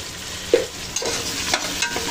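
Potatoes with turmeric stirred in a frying pan, a close steady sizzle broken by a few sharp scrapes and knocks of the spatula against the pan.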